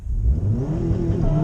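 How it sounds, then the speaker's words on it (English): A rallycross car with a slipping clutch accelerates hard in a brief burst, the engine revving loudly and rising in pitch while a whirring drone runs underneath. "Yep, that's definitely some clutch slip, not wheel slip."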